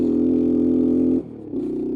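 An old three-wheeler engine runs on stale gasoline, short of full throttle, with a loud, steady droning hum. It dips abruptly for a moment, then settles back into a lower, rougher running note.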